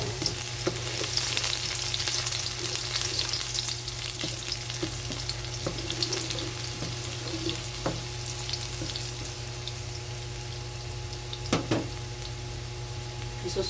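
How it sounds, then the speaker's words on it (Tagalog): Garlic fries in hot oil in a home kitchen for a tilapia-in-coconut-milk dish, a steady, dense sizzle with scattered crackles and a few light utensil taps, no voices. "mainit na ang ating mantika, kaya ilalagay na natin ang ating bawang"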